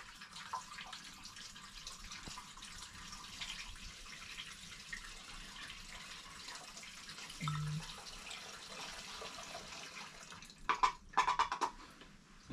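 Fuel mix poured from a bottle through a funnel into the tank of a Hangkai 6hp two-stroke outboard, a faint continuous liquid trickle with a brief louder gurgle near the end.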